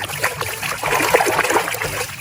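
Clean water splashing and trickling as muddy toy animals are washed, a short continuous burst of close, bubbly water with no talk.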